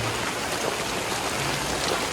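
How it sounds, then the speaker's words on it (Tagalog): Heavy typhoon rain pours steadily and loudly onto surfaces nearby, a dense, unbroken hiss with no voices. "Malakas na naman ulan."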